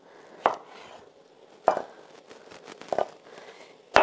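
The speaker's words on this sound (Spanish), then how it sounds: "Vamos a trocearlo en daditos, ¿de acuerdo?" A knife chops an ingredient into small cubes on a board in a kitchen, four sharp, separate cuts spaced about a second apart, close and clear with no talk.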